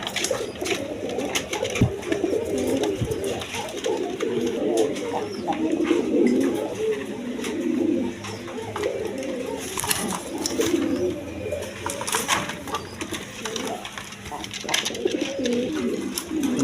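Indian Bombay pigeons, a big-sized breeding pair, coo softly in low repeated murmurs amid the clutter of a crowded pigeon market, with someone talking over them throughout.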